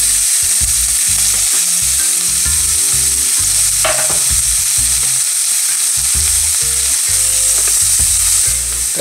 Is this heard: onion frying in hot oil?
yes